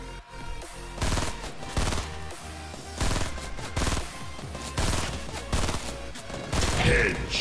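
Gunfire in Fortnite: loud, rapid bursts of shots repeating steadily throughout, close and dense, with little else heard over them.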